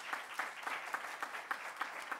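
Audience applause at a website presentation, fairly faint and somewhat distant, in a regular pattern of claps that suggests a small group clapping steadily.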